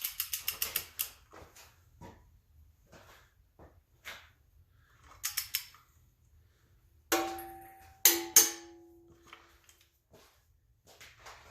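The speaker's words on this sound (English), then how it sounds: "Now, torque this oil pump, 65 foot-pounds." A torque wrench tightening oil pump bolts to 65 foot-pounds on an engine: quick runs of close ratchet clicks, then a louder metallic clack or two as the wrench reaches torque, with quiet gaps.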